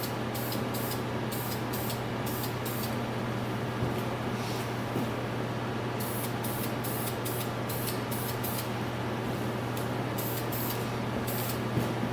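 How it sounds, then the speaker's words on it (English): Short bursts from a spray can coating the frame of a Honda CR80 dirt bike, repeated hisses in quick clusters over a steady background hum, close and fairly loud. "couple sprays here. I want to block the frame."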